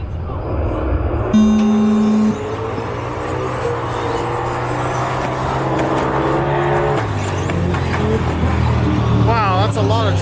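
A pack of RC truggies races just after the start of a BEGO Racing final, their electric motors whining at rising and falling pitches as several cars pass close by, with talk running underneath.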